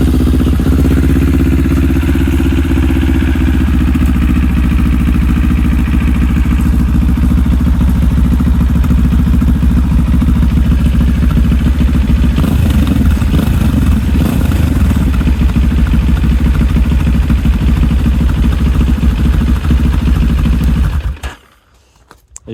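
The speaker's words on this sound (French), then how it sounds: "On va faire un premier démarrage" A QJMOTOR SRT 700X motorcycle fitted with a new exhaust silencer idles loudly and close up on first start, a steady throbbing rumble with slight blips and clatter, before cutting off abruptly near the end.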